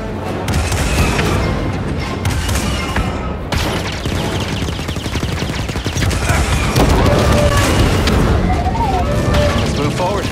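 Cannon fire in the video game Star Wars Jedi: Fallen Order, rapid volleys of booming shots and gunfire-like bursts layered over a dense low rumble, loud and sustained, with a brief dip before the barrage resumes.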